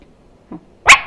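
A voice imitates fighting puppies crying, with a faint short whimper followed by one sharp, high yelp, close and alone.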